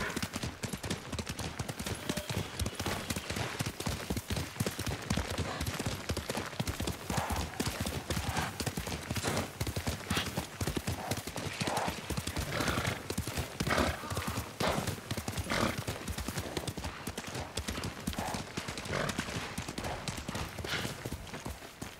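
Dense, steady clip-clop of a horse's hooves galloping nonstop in Ghost of Tsushima, with a brief neigh mixed into the loud, driving rhythm and no speech.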